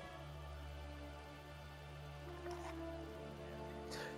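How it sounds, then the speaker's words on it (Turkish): Steady rain from the Uncharted 2: Among Thieves game, a continuous even hiss of rainfall with a low droning hum beneath it and a couple of brief brighter splashes, no speech. "Yağmurlu bir günde Uncharted 2 sona doğru ilerliyor dostlar."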